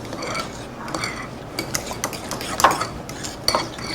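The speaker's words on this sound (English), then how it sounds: "I'm making my mixture to go between the layers. Okay, so give it a good mix." Spoon stirring a lasagna cheese filling in a bowl, with soft scraping and clinking against the dish and a few sharper knocks of the utensil, close and moderately loud with no voices.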